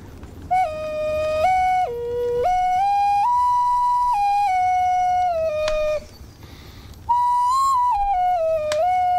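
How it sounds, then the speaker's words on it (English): A magic whistle is played in a sustained, clear tone that steps between several pitches, with two brief breaks in the melody. "This is a magic whistle."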